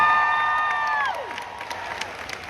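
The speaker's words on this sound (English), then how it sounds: "Give it a round of applause." A gliding electronic tone sweeps downward and fades, then an audience at a large live company event breaks into moderately loud applause with light cheering under a few stray voices.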